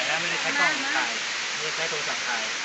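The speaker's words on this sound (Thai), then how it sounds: "นี่บริเวณนี้แหละครับ คือน้ำตกเหวนรกเนี่ยครับ" Haew Narok waterfall in Khao Yai National Park, Thailand, pours with a steady, dense roar of falling water close by, while someone speaks over it throughout.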